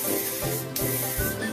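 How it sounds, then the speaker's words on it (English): L'Oreal Elnet Satin hairspray hisses from a nearly empty can in short close sprays with brief gaps, sounding airy and sputtering rather than smooth. "I'm just taking my Elnet Satin by L'Oreal and I'm just going to spray."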